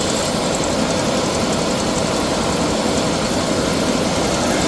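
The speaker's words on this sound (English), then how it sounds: "This truck has a heavy-duty clutch fan and fan from a Ford Explorer, so a bit more airflow, but makes a bit of noise also." Close, loud idle of a Land Rover Discovery 2 engine fitted with a heavy-duty clutch fan and a Ford Explorer fan, a steady engine drone under a strong, airy whooshing roar from the fan, unbroken and without talk.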